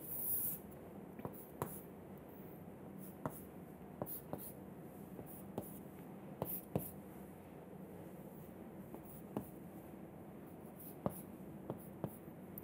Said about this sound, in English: which I am drawing